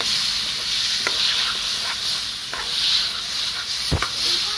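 Amla cooking with softened jaggery in a pan for a chutney gives a steady hiss and sizzle, with a few soft stirring scrapes, close and moderately loud with no talk.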